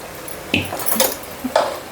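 Flattened rice (poha) stirred in a cooking pot for a sweet laddu, with a few distinct metallic scrapes and knocks of a spoon against the pot over a quiet background.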